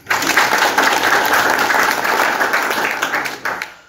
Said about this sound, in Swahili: Naomba tuwapigie makofi mazuri.